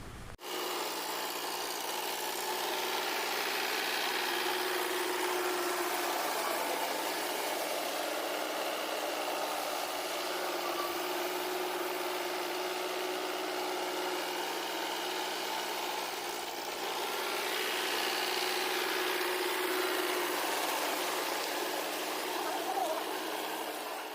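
A tractor engine drones steadily while working a paddy field at sowing time, a continuous mid-pitched hum at moderate distance that stays even throughout with no talk.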